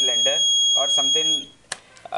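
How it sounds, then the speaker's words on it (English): An LPG/CNG gas leak detector buzzer sounds with a thin, continuous high-pitched electronic tone beneath a person talking, then stops, leaving a few short clicks. "So this buzzer indicates if there is a leakage of gas in the cylinder"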